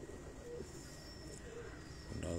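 Pigeons coo softly and continuously on a rooftop loft in Rawat, a low murmuring bed of overlapping calls with a slightly louder burst near the end.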